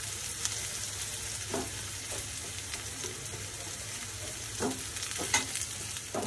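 Onions and spices frying in a pan for a chicken curry, a steady close sizzle broken by occasional scraping stirs of a spoon, with no talk over it.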